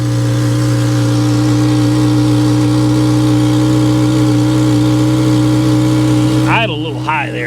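An old, classic Honda Accord engine held at a steady raised throttle, loud and close, ending with a short burst of talk over it.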